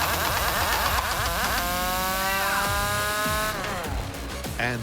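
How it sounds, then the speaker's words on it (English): A torque wrench spins up a wheel hub with a loud, continuous mechanical whine whose pitch climbs steadily over several seconds, layered over rough engine-like rumble throughout. "It's a promising plan that gets better when the torque wrench does fit the wheel hub."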